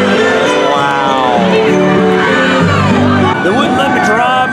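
Crowd at a holiday parade cheering and whooping loudly throughout, with voices shouting close by over the din.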